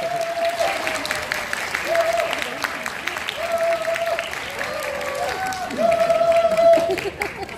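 A crowd applauds and cheers at a Suwon public talk-show taping, steady clapping running throughout with voices and shouts mixed in, swelling louder toward the end.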